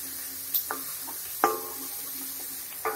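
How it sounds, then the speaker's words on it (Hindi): A spatula scrapes and taps in a pan stirring dry chonle bean and karonda sabzi, a few scattered scrapes and clinks over a faint quiet background. "इस प्रकार से पलटे को चलाते रहेंगे।"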